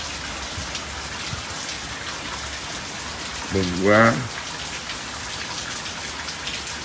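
Heavy rain pours steadily onto a garden, a dense even hiss filling the whole stretch, with a man briefly exclaiming over it midway.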